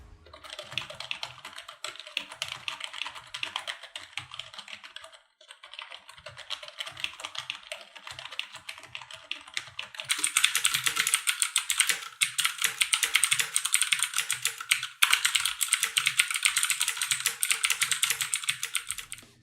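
Fast, continuous clacking of keys on a Corsair K55 RGB keyboard, a steady stream of keystrokes that turns louder and clickier partway through on a keyboard with clicky Cherry MX Blue switches.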